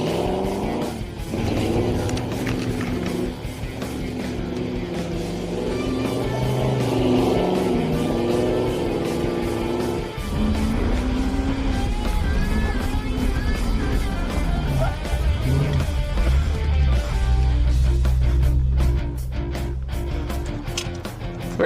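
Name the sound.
Hemi '55 Chevy Bel Air and Ranchero doing laps on dirt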